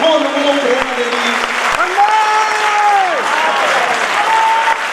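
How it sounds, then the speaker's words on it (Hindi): An audience at a speech claps loudly and steadily in dense, continuous applause, with a voice rising over it partway through. "तालियां बजाइए"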